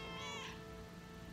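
In the open-world delivery game Lake Shipping Delivery Packages, one close cat meow sounds early, bright and wavering, then fades into a quiet ambient game hum.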